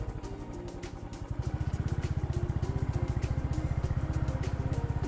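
A motorcycle engine idles nearby with a low, rapid, pulsing chug that grows steadier and slightly louder after the first second, running continuously under faint outdoor background noise.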